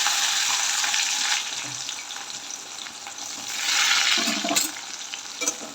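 Sliced onions fry in hot oil seasoned with black cumin (nigella) seeds, giving a loud, steady sizzle that swells and eases as they are stirred, with no talking.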